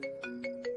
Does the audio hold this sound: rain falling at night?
no